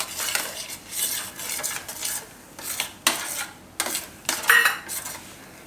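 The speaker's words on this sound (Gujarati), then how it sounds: "આમાં આપણે હવે આ કોકો પાવડર નાખી દેવું અને મિક્સ કરી દેવું." A spoon scrapes and clinks rhythmically against a pan while cocoa powder is stirred into mawa for Gujarati chocolate laddu, in repeated short strokes close up with no talking.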